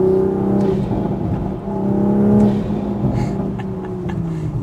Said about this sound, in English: the downpipe and the exhaust really added to the pops that the car makes in sport mode